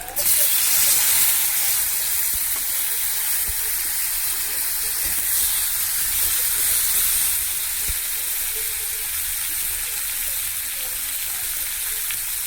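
Chopped tomato hits a hot pan of oil for a Latha fish curry, giving a loud opening sizzle. A steady, hissing fry with steamy crackle continues close by for the rest.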